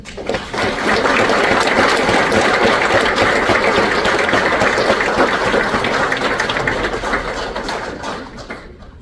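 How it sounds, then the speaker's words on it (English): Sustained, dense applause from an audience at an AUSA Army event honors the Army's Chief of Chaplains. It swells to full volume almost at once, holds steady, then tapers off near the end. "Let's give Chaplain Green another round of applause."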